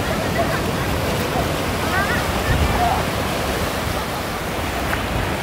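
Ocean surf rolls in at Santa Monica beach near the pier, a loud, constant wash of breaking waves and foam filling the whole stretch with no clear pauses and no talk heard.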